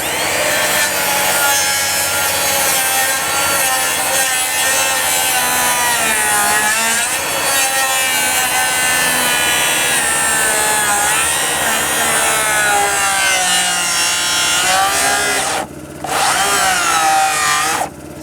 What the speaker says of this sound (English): I'll cut it as far as I can, and then multi-tool it maybe. I can either multi-tool it or probably sawzall it.